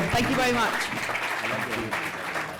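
Audience applause for a film press conference panel, a broad steady wash of clapping throughout with someone talking over it.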